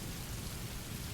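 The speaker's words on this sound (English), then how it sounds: "When it rains in the game, Arthur's coat gets shiny" Steady rain with a low thunderstorm rumble in the Red Dead Redemption 2 video game, a dense continuous hiss of falling water over a deep underlying roll, faint and even throughout with no voices.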